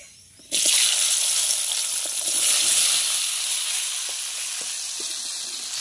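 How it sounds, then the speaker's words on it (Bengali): Sun-dried homegrown jujube berries drop into a wok of hot oil tempered with five-spice and dried red chillies, bursting into a sudden loud sizzle that settles into a steady crackling hiss, close by and with no talking. "এবার আমি কুলটা দিয়ে দেবো কড়াতে।"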